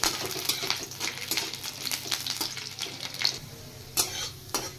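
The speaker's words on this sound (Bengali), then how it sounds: "এবার দিয়ে দিচ্ছি 7-8 কোয়া গোটা রসুন। এটা একটু ফ্রাই করে নেব" Seven or eight whole garlic cloves frying in ghee in a pan: a soft sizzle under light, irregular stirring taps, close and fairly quiet, with no one talking.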